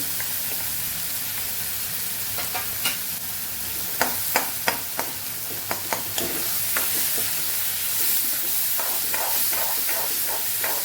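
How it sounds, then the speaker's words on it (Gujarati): Garlic paste and onion sauté in hot oil in a pan, a steady close sizzle and hiss broken by repeated sharp scraping and clinking of a spoon stirring against the pan. "એને સરસ સાંતળી દઈશું ડુંગળી થોડી ટ્રાન્સપરન્ટ થાય ત્યાં સુધી"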